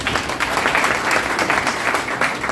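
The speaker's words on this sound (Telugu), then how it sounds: "ఒకసారి చప్పట్లు కొట్టండి." A crowd at a political rally claps loudly and steadily, dense fast applause from many hands filling the space close at hand, pulsing slightly but never letting up.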